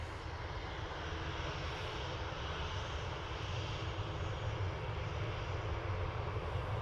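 A Ryanair jet takes off at Dublin Airport, its engines a steady, distant, broadband roar that holds evenly throughout with no talk over it.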